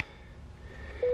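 A mobile phone gives a brief electronic beep at the very start, then a steady tone sounds near the end, both fairly quiet over low room noise.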